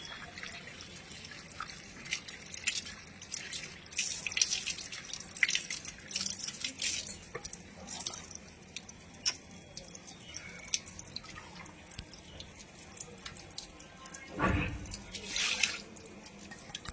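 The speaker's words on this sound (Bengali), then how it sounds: "এই দেখুন এখানে জল দিয়ে ল্যারানি ভাব বেরিয়ে গেল" Tap water runs and drips while a fish is rinsed clean before cooking, producing intermittent trickling and splashing close by, with a brief heavier gush near the end.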